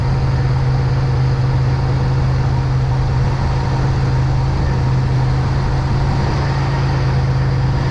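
Buick Grand National engine idling steadily at elevated RPM, a constant low hum with a strong fundamental tone running unbroken throughout, loud and close with no talk.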